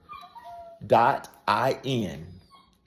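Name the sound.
dog whimpering for attention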